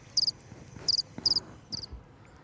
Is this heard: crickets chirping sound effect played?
yes